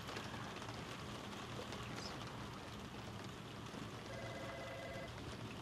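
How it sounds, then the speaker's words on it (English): Steady rain falls outside an office, a dense even hiss of drops on surfaces that holds at a moderate level throughout, with no voices. "I actually sleep better when it's raining."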